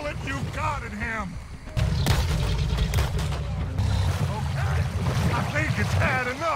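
Gunfire in Red Dead Redemption 2 during a boat mission: a few heavy, booming shots that land under a low, steady engine drone and overlapping speech, mostly masked by the talking.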